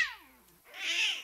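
A cat lets out two close, clear meows: the first slides downward, and after a short pause the second rises brighter.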